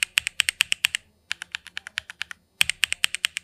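Rapid typing on a mechanical keyboard fitted with low-profile ABS keycaps. Crisp, close clacks fall in quick bursts with a short pause between runs, and no one talks.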